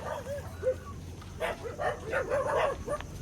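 A dog yips and barks in short, whimpering bursts, a few scattered calls and then a quicker cluster, somewhat distant and faint over a low background hum.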